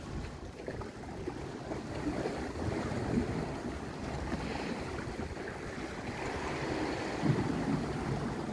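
Sea waves on the coast at Chabahar, a steady rushing wash of surf mixed with wind buffeting the microphone, continuous and fairly close, with no voices.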